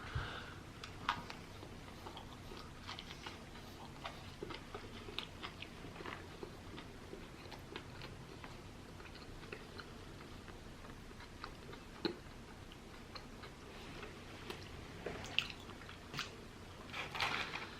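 Close, soft chewing of a Steak n Shake burger: wet, squishy bites and mouth clicks repeating irregularly for a long stretch, with no talking.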